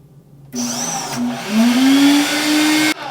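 A meat grinder forcing lamb and onion through, running as a steady loud motor whine with a rising pitch, starting abruptly and cutting off after a few seconds.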